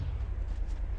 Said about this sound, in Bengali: গ্রেনেড মেরে দিয়েছে